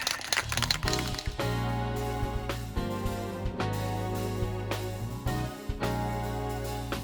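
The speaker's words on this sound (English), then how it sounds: "I have to give these cans a really good shake" Aerosol primer spray cans are shaken hard, their mixing balls rattling in quick, loud bursts of rhythmic clacking with brief pauses between rounds, up close.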